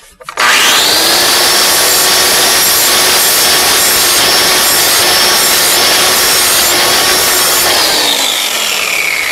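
Power grinder sharpening a lawn mower blade, a loud continuous grinding hiss with a sustained tone that starts abruptly, holds steady and sags slightly near the end.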